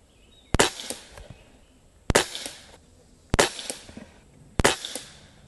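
Four sharp shots from an Umarex Walther Reign .22 caliber bullpup air rifle firing pellets, each a crisp crack with a short tail, spaced about 1.3 seconds apart and heard alone.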